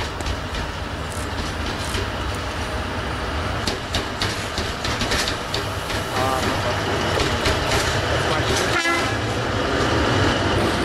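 An LTG Cargo TMH class diesel road switcher runs light through a rail yard in Lithuania, its engine rumbling steadily for the whole stretch with wheels clicking over rail joints and a short horn blast near the end.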